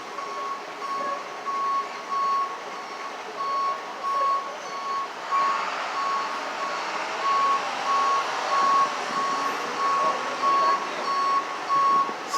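A tow truck at a large car crash scene sounds its reversing alarm, a steady series of evenly spaced high beeps repeating throughout, moderately loud over a background of distant traffic and street noise.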